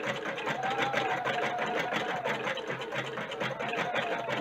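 A Husqvarna Viking Designer Brilliance 80 sewing machine stitches continuously, a loud, close, rapid mechanical whir with a steady needle rhythm and no pauses.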